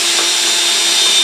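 Power drill whirring continuously at a lathe in a home workshop, a brief, loud, steady high-pitched motor whine.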